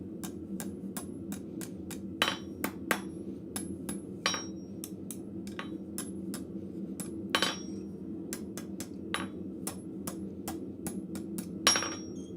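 A blacksmith's hammer rings on forged metal while scrolling a fiddlehead in a forge, a long series of sharp metallic strikes at an irregular pace over a low steady background hum, some blows louder than others.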